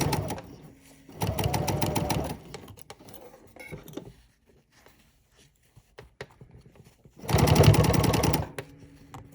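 A sewing machine stitching fabric pattern weights runs in two steady bursts of rapid mechanical whirring, close and fairly loud, separated by a quiet gap with small handling clicks.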